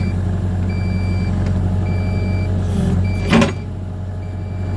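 A single sharp metallic clunk as a Cat 305 excavator quick coupler latches onto a bucket pin, over steady heavy engine rumble and intermittent high reversing beeps.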